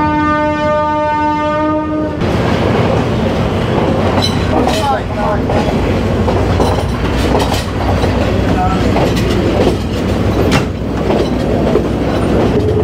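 A passenger train on the hill line from Nanu Oya to Ella in Sri Lanka sounds a loud, sustained horn. The horn gives way to a heavy, continuous rumble and clatter of carriages rolling over the track, heard from on board.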